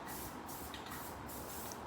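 Flat spray paint hisses from a can onto the sides of a resin or acrylic pour painting in a steady, close spray with brief dips between short bursts.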